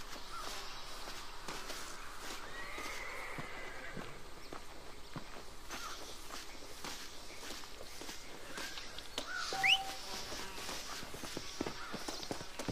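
A horse in the video game Red Dead Redemption neighs and whinnies over a steady clip-clop of hooves, with a brief louder whinny rising near the end amid ambient game sound.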